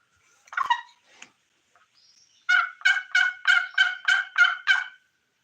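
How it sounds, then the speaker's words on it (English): Wild turkey gobbling outdoors in quiet surroundings: a few faint scattered calls, then a clear rapid series of about eight rattling gobble notes at moderate distance. "They gobbled back."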